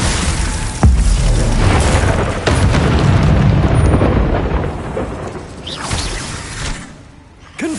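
Confringo fire spells in the Hogwarts Legacy video game go off as loud, heavy booming blasts, several in quick succession with rumbling tails, and no voices.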